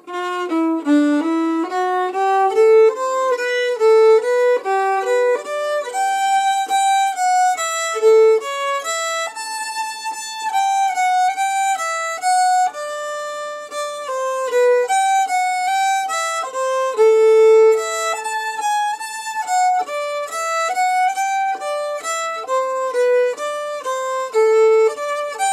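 Solo fiddle playing the B section of Glarry's Tune No 2, a steady, continuous melody of clear bowed notes at even volume, close and without voices.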